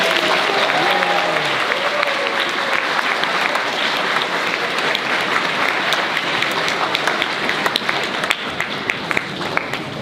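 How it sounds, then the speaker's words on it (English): A hall full of people gives loud, sustained applause for a student at a school award ceremony, with some individual claps standing out and brief voices heard early on. "Please give a big round of applause to Ethan Hendrock"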